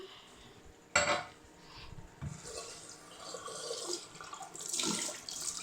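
Tap water runs into a sink while the water in a frog tank is being changed, with a sharp splash or clatter near the start and the flow surging louder toward the end, close by.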